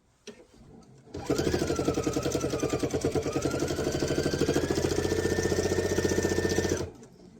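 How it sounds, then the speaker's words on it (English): A sewing machine with a worn needle runs fast and steady for about six seconds, its needle giving a dull, rhythmic thudding as it strikes the fabric of a quilt binding, loud and close, starting and stopping abruptly. "I can tell because it has that thuddy sound, and I can hear the way that it's hitting the fabric that it's getting time to replace my needle"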